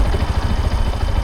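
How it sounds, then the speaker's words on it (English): A learner's motorcycle idles in neutral with a steady, low, throbbing rumble, loud and close, with no talk. "I'm going to put my bike into neutral, and I'm going to go back on the back brake"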